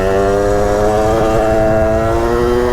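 A Derbi 70 motorcycle engine revs hard during wheelie practice, giving a loud, close, sustained high-pitched whine that holds steady throughout, with no talking.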